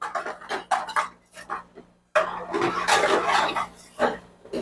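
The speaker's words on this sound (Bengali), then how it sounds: "দিয়ে খুব ভালো করে নেড়ে কষতে হবে" Boiled mutton pieces are stirred in a cooking pan, with irregular metallic scrapes and clatters of the ladle against the pan. A short pause is followed by a louder, denser stretch of scraping.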